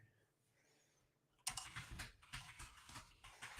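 Computer keyboard typing begins after a quiet stretch, with quick irregular clicks and taps continuing up close through the rest of the clip.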